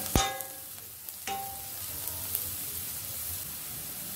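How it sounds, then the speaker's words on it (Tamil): Onion and green chili sauté in a pan for a chicken kari dosa, with a low steady sizzle and a couple of sharp clinks of a spoon against the pan near the start and middle. "வெங்காயம் பச்சை மிளகாய் ரெண்டையும் நல்லா வதக்கிக்கலாம்"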